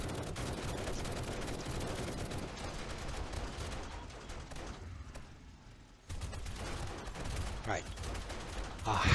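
Rapid submachine gun bursts in the 7 Days to Die video game, dense and loud, sustained firing with a brief lull before resuming, under faint background noise.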